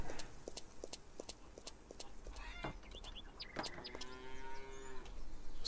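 Brown-and-white cows in the farm game Farmer's Dynasty let out a couple of moderately distant moos over steady low ambient farm noise, with faint clopping clicks scattered throughout and no talking.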